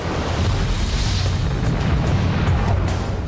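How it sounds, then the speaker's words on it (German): A deep, sustained rumbling boom portrays the first star igniting, a dense continuous roar with heavy low end, loud and unbroken throughout with no voices over it. "Der erste Stern explodierte zum Leben."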